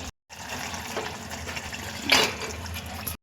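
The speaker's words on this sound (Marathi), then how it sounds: "जे आपण चिकन शिजवून घेतलं होतं ते आपण आता ह्याच्यामध्ये ॲड करून घेऊया" Cooked chicken and its stock are poured into a pan of masala for Savji chicken, making a steady close splashing, gushing pour with a brief louder splash near the end.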